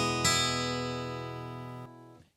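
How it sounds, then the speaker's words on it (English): A single chord strummed on an acoustic guitar rings out with all strings sustaining evenly. It fades slowly, then is damped abruptly near the end, with no talk. "So when you play a chord"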